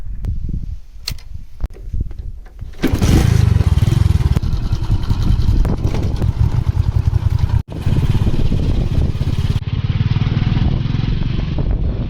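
A tractor working with a harrow in a village field runs loud and close, its engine roaring steadily after a quieter, clattery start, with a brief dropout midway.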